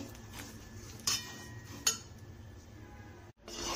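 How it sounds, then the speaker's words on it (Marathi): A spoon stirs a mixture of ghee and sugar syrup in a pan on low heat while sorghum puff laddoos are made, with two sharp metallic clinks over a quiet background. "तूप घातल्यानंतर हे असं सतत हलवायचं"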